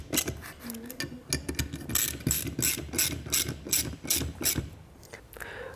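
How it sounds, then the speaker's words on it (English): A ratchet with a 9/16 socket tightens bolts in repeated quick bursts of close, crisp clicking with brief pauses between strokes. "grab your 9/16 socket and tighten those down"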